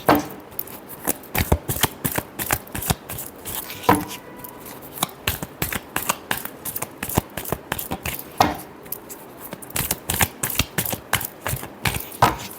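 Tarot cards being shuffled by hand, a rapid run of crisp snapping and riffling bursts in irregular clusters, close and fairly loud, with no talking.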